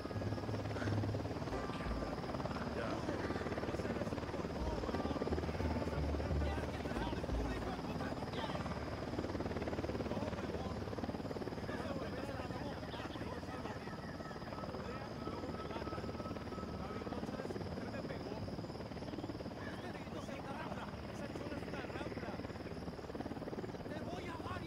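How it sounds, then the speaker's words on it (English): A helicopter in the video game Ghost Recon Wildlands makes a steady, loud rotor drone that stays constant throughout, mixed with in-game ambience and background noise. "We got a chopper coming in"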